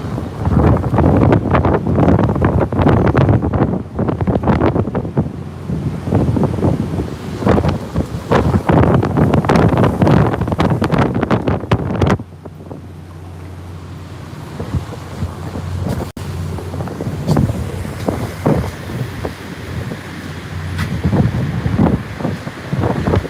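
Hurricane Sally's back eyewall at Gulf Shores, Alabama: loud roaring gusts buffet the microphone in heavy surges, then ease to a lower steady rush before building again.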